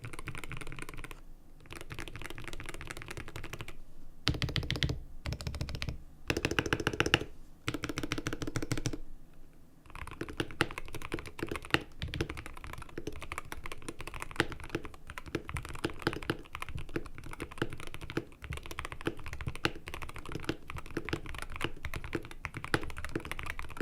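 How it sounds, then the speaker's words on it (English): Someone types on an IQUNIX EZ60 Hall effect keyboard, producing rapid, close-up thocky keystrokes in uneven bursts with short pauses, then a long continuous run of clacking with no voices. "now we're going to do a sound test of this keyboard so that you guys can get an idea of how it sounds"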